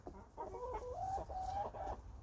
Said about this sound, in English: Yeah, so these are our chickens.